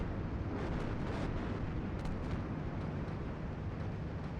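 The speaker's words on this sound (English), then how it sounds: "we're taking heavy artillery fire on position" Continuous heavy artillery fire exploding in Steel Beasts Pro PE, a dense, steady roaring rumble of blasts with no breaks, loud and enveloping throughout.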